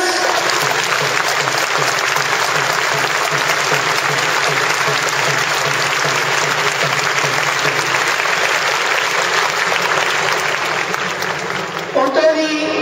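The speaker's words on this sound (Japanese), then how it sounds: "この1年戦った監督、スタッフ、選手に最高の拍手をまたお願いいたします。" A stadium crowd at a Sagan Tosu post-match ceremony gives a long, loud, unbroken round of applause to the coach, staff and players, tapering briefly near the end.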